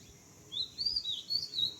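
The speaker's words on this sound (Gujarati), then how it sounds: "આ દૈયળ છે મેકપાય રોબિન" An Oriental magpie robin (dayal) sings a string of faint, high, bright whistled phrases at a distance, repeating in short bursts over a soft background with no talking.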